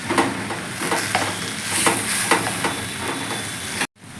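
Gongura chutney ingredients sizzle steadily in a pan while a utensil scrapes and stirs through them in repeated strokes, close up.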